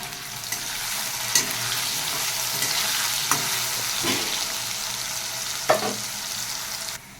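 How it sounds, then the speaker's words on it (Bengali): Small cut potatoes with salt and cumin seeds fry in oil with a continuous hissing sizzle, broken by several soft scraping stirs of a spatula against the pan. "আলুটা ভেজে তুলে নেব।"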